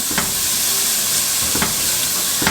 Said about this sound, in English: Now you just want to cook your vegetables until they get tender.